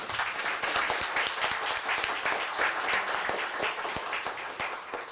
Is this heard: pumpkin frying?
no